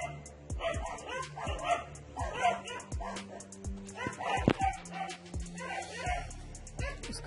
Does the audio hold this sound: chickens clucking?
no